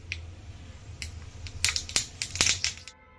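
Mustard seeds crackle and pop in hot oil for a chilli and onion chutney, a run of sharp close snaps that thickens toward the end before stopping abruptly.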